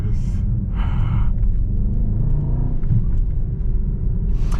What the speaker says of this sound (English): you can instantly hear and appreciate the V8 rumble